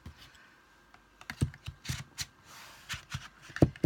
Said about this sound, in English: Using my bone folder just to make sure that the glue has all got a grip